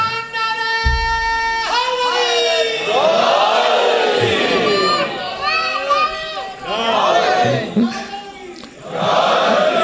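Crowd at a religious majlis chanting slogans together in loud, rhythmic bursts that swell and fade several times, with a lead voice calling between the shouts.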